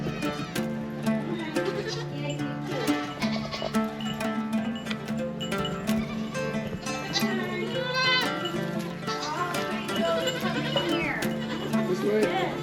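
A herd of goats bleats repeatedly and overlapping at close range, with wavering cries stacked over one another while people talk nearby.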